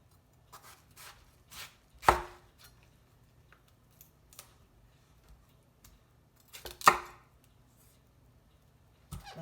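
A knife cuts lengthwise through a quarter of a watermelon on a bamboo cutting board, giving a few crisp chopping strokes with two sharp thuds against the board and quiet pauses between them.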